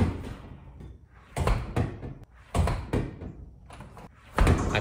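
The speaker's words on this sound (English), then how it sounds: "Now it's time for the door slam sound." Door slam sound effect made for a game: a series of loud, sharp door bangs and thuds, roughly four heavy impacts spaced about a second apart, each with a brief rattling tail.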